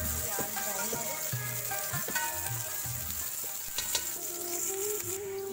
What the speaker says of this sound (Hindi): इसमें मैं 3 से 4 टेबल स्पून ऑयल ऐड कर दूँगी। थोड़ा सा प्याज को ब्राउन करेंगे।